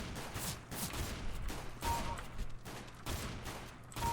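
Gunfire in Counter-Strike: Global Offensive during a bomb-site round, with repeated bursts of shots at fairly low volume and no talk.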